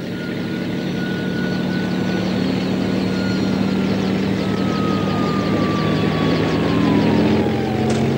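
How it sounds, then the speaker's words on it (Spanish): A helicopter from a 1975 comedy film hovers steadily throughout, a continuous loud rotor and engine drone with a rising whine sweeping across it. "El helicóptero acaba de colocar allí una jaula."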